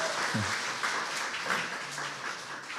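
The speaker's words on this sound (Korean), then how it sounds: "박수 계속 치세요" A live audience at a public broadcast recording claps steadily in a dense, fairly quiet wash of applause, with a brief voice sound near the start.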